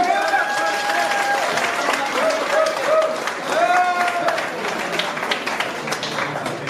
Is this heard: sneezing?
no